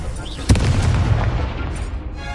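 The Confringo blast spell from the Hogwarts Legacy video game: one loud booming explosion that rolls into a rumbling, crackling tail, set against constant game noise.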